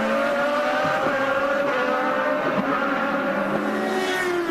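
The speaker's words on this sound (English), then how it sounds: "It's Alex Tagliani in the black and white car with the copper trim, very pretty race car, and right behind him is Graham Rahal." IndyCar race cars scream past on the street circuit at the Honda Indy Grand Prix of Alabama, a loud continuous high-pitched engine whine with overlapping cars and slight pitch shifts as they pass.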